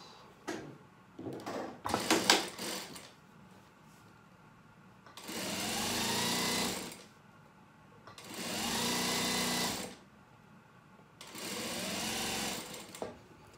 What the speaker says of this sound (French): Je plie l'extrémité du biais et je le couds.